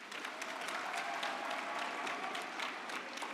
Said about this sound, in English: you need to give yourself a round of applause